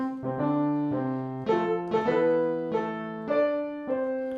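The Happy Birthday melody plays as a two-voice canon answered at the sixth, on a piano-like keyboard, steady overlapping notes at moderate volume with no talking.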